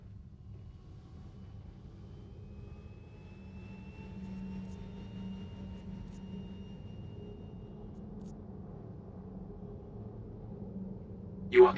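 Aegis Hammerhead ship engines in Star Citizen hum with a deep, steady low rumble and thin whine, swelling slightly midway and ending with a brief sharp burst.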